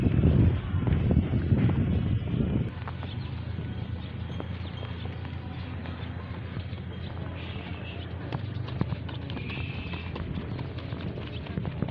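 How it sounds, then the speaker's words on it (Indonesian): Horse hooves clip-clop on the ground at a racetrack, a loose irregular rhythm of hoof strikes over steady wind and outdoor background noise. "ini sepertinya ada kuda yang akan masuk ke race lagi"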